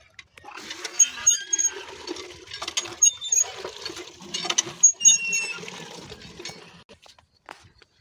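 Water splashes and gurgles irregularly as it is pumped and poured into a barrel beside a pond near rice paddies, with uneven bursts and trickles close by and no talking.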